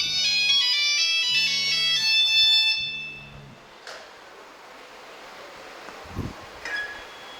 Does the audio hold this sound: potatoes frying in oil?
no